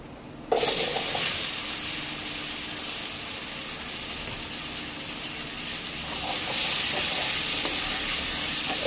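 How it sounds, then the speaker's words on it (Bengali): Chopped pumpkin, potato, pointed gourd and ridge gourd hit hot oil with a sudden loud sizzle, then keep frying with a steady close hiss that swells again near the end. "এটাকে এবার লাল লাল করে ভেজে নেব।"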